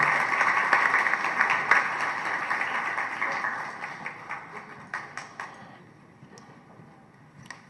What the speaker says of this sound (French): Applaudissons Charles Rodolphe.